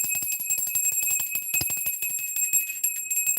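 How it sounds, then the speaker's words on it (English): A small bell rung in a rapid, steady trill of bright metallic strikes that runs continuously for a few seconds, fairly close and clear, with no voices. "let me ring this bell."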